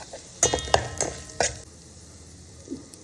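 Capsicum with onion, cashews, pepper powder and cumin powder frying in a pan for capsicum rice, a soft sizzle broken by several sharp stirring scrapes and clinks in the first second and a half, then quieter sizzling with one faint knock.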